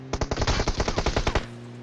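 Rapid automatic gunfire from PUBG Mobile, a loud burst of roughly a dozen evenly spaced shots fired in quick succession, ending with a lingering tonal hum.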